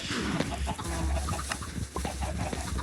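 Chickens in a video game cluck and squawk in a busy farmyard mix, moderately loud, with scattered bird calls over a steady background.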